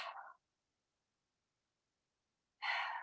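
Audible breath pushed out through the throat during a yoga pose, two soft breathy exhalations separated by a long silence, close and quiet with no talking.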